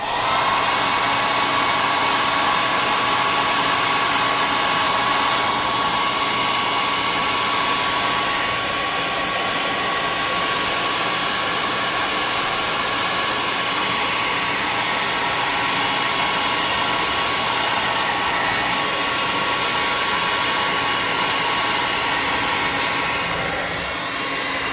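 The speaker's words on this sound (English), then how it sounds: "So let's get a hot air gun." A hot air gun blows steadily at close range, used while crafting line-of-sight scatter terrain for a tabletop game; a loud, constant broadband whoosh runs unbroken throughout with no talk.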